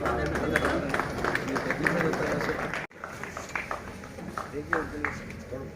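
Audience applause welcoming a guest onto the stage at a talent felicitation ceremony: dense, steady clapping from a crowd with murmured voices mixed in, briefly cutting out midway before resuming.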